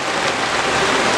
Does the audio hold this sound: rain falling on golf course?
yes